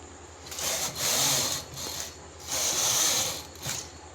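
A knitting machine carriage sliding back and forth across rows of stitches for a sweater cap, giving two longer whirring mechanical passes and a short one, close and moderately quiet.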